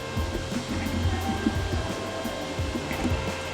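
A $30,000 large format printer runs while printing banner material, giving a loud, steady mechanical whir with faint clicking and shuffling throughout, close by and uninterrupted.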